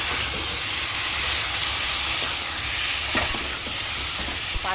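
Ginger and green chili paste with a little water sizzling in a pan for a thin fish curry: a steady hissing sizzle with a few faint clicks, close and fairly loud, without talking.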